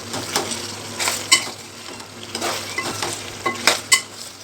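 Tomato is frying in a pan with chicken curry and being stirred with a utensil, giving a steady sizzle broken by scraping strokes and a few sharper clinks of metal on the pan, close up with no voices.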